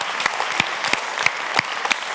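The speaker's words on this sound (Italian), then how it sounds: "chiediamo l'applauso più grande per ricordare i fondatori della band" A large concert crowd applauds in honour of a band's founders, a loud continuous roar of clapping with a few sharper rhythmic accents recurring through it.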